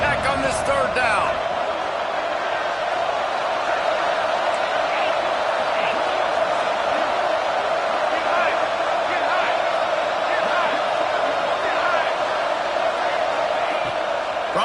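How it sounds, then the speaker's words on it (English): A stadium crowd roars steadily in a college football video game with Texas Tech on third down, a dense, loud, unbroken wall of noise under play-by-play commentary. "Guns up, and so is the noise. The crowd electric trying to help Tech on this third down."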